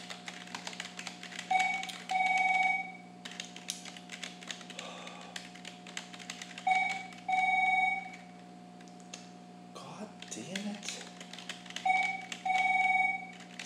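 An electronic telephone ringer sounds in an office alongside steady computer keyboard typing and tapping. It gives three separate double-burst rings a few seconds apart, moderately loud, over a constant low hum.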